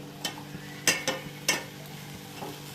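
Bread spread evenly in a pan over a low flame fries with a faint, steady sizzle, punctuated by a few sharp taps and scrapes of a utensil against the pan.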